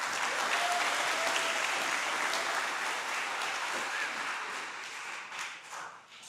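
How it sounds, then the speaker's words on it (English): Audience at a school culmination ceremony applauds steadily for several seconds, a dense wash of clapping that gradually thins and fades toward the end. "You should clap for yourself."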